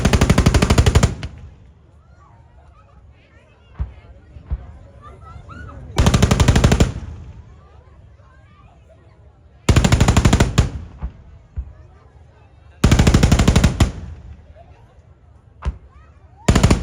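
A platoon of BMP-2 infantry combat vehicles firing together in a collective shoot: loud, sustained bursts of automatic cannon fire repeating every few seconds, with scattered distant blasts and reverberation in the gaps between bursts.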